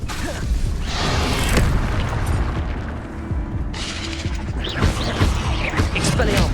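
An Incendio fire spell is cast in a Hogwarts video game, with bursts of whooshing flame and booming impacts over a busy game soundscape, one louder blast at the start and another after a short lull.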